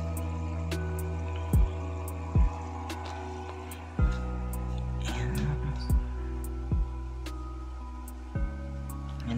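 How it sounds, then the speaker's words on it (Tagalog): A small home aquarium with a water pump and filter runs steadily, giving a continuous low hum under periodic soft clicks and drips, moderately close and fairly quiet. "Isang water pump, isang aquarium filter."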